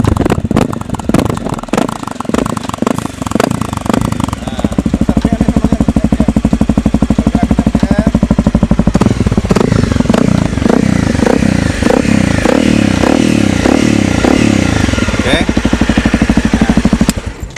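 A Honda CRF250L Rally motorcycle fitted with a free-flow exhaust idles and revs close up, a loud crackling, rattling engine note that grows fuller midway, with someone talking over it.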